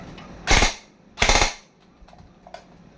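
Airsoft gun fired with an E&C Flash magazine, two sharp close shots about a second apart followed by faint clicks of the mechanism, no talking.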